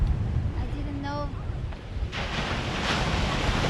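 Ocean surf at Knight's Point beach on New Zealand's South Island West Coast, steady wave wash and wind buffeting the microphone, with the roar swelling louder in the second half; a brief tonal chirp sounds early on.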